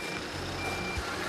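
A 1.5-ton truck reverses into a cramped unloading space at a dried-pollack drying yard in Yongdae-ri, Gangwon, with a steady reversing beep over a low idling rumble.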